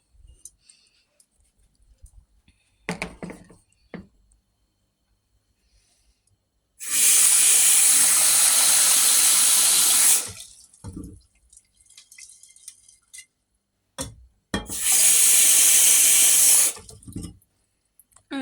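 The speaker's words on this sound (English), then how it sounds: "Okay, we're going to fill this up with water." A cooking pot is filled from a kitchen tap in two loud hissing bursts of running water, each a few seconds long, with clinks and handling noises in between.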